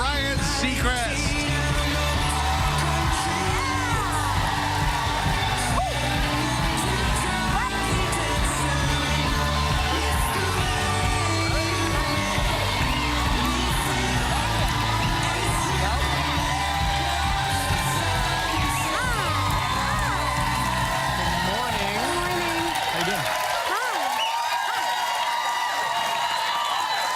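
A studio audience at a live morning talk show cheers, whoops and applauses loudly and continuously for the incoming hosts Kelly Ripa and Ryan Seacrest, with music beneath, before the noise drops off abruptly near the end.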